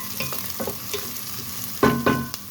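Onion and garlic being sautéed in a pan, a soft sizzle under scraping strokes of a spatula, with two louder stirring scrapes late on and no one talking.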